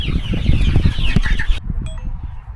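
Several chickens cluck and murmur close by inside a coop as they settle in for the night, loud and busy before fading to quieter scattered clucks.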